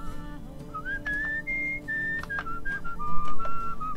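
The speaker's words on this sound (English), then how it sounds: "we're definitely not whistling the same song that we used to be whistling" Melodic human-style whistling from the video game Where the Water Tastes Like Wine, a wandering tune of held and sliding notes over a soft musical backing, with no talk.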